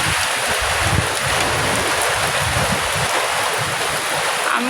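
Heavy storm rain pours down steadily while strong wind roars across a rural spot with mango trees, a dense, loud, continuous wash of sound with no talking.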